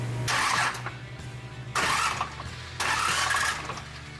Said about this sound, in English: let's crank the motor over